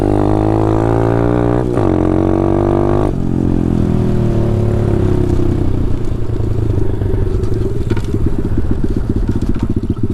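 A Taotao DB17 125 dirt bike engine with an upgraded carburetor runs up close, loud and rough, revving high then dropping to a steady chugging idle with rapid popping pulses.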